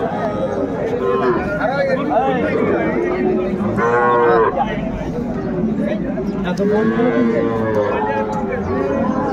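Cattle, bull calves and Sahiwal heifers at a busy village cattle market low repeatedly, loud nearby moos rising over constant crowd chatter and bargaining voices.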